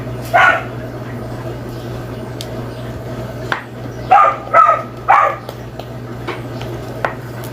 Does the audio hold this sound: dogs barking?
yes